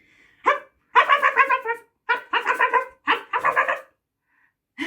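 A person's voice imitating a fox's huffing bark, like a dog, in a children's drama class; three bursts of rapid breathy barks, five or six in each, loud and close with short pauses between.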